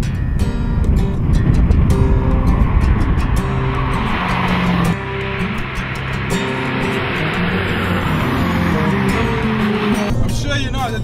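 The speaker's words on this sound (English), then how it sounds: "This is the highest revving normally aspirated V8 in the world." Ferrari 458 with its 4.5-liter naturally aspirated V8 drives on, a loud steady engine drone with pitch shifts through shifts, continuous across the clip with some tire noise.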